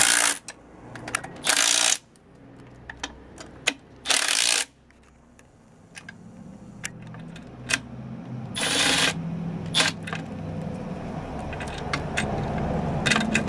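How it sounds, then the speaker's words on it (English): Nuts being tightened on the motor mount of a YETI 2 pitching machine: a series of sharp ratcheting clicks and short bursts of wrench noise, close and fairly loud, with no talking. "Hold it in place. Tighten all four nuts."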